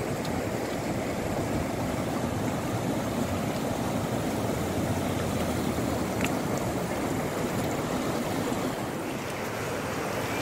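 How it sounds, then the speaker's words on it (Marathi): Floodwater of the Bhima river, swollen by a dam release, flowing over a low culvert bridge between Chas and Tokewadi; a constant rushing roar, steady and moderately loud, with no voices. "चास ते टोकेवाडी दरम्यान नदीवरचा मोरी पुलावरून पाणी वाहत आहे"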